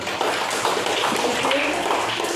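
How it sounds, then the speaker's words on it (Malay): Students in a classroom clap together, a dense, steady patter of many hands filling the room at close range for the whole stretch. "Tepuk tangan."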